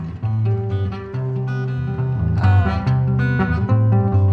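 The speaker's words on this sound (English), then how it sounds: "And the balafon sound is mainly in my music" Balafon-style music plays with bright, rapid wooden mallet notes over a steady rhythmic bed, loud and continuous with no talking.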